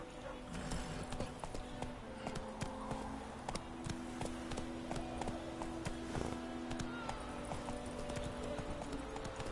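Roach the horse gallops in The Witcher 3, a steady run of rapid clip-clop hoofbeats heard close and continuous throughout, with background music and some voices underneath.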